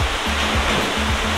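Toparlar waterfall and the river below it: a dense, steady roar of rushing water, loud and close, with no voices.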